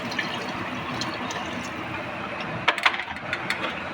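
Water poured into a cooking pot of seasoned food makes a steady splashing stream, ending in a few louder sloshes and clinks as the pouring stops.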